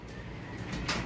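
Racing pigeons, checkered birds in a loft, cooing softly in a short burst over a low, steady background, with no talk.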